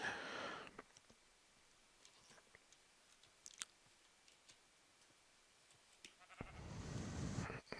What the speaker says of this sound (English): Oh, now we're gonna have to deal with the sheep too.